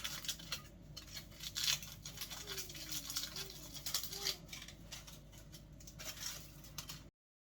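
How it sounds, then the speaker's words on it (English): Tin foil being peeled and crinkled off smoked teriyaki lollipop chicken legs: soft rustling, crumpling and tearing textures continue for several seconds at close range, then stop abruptly. "unwrap the legs now from the tin foil"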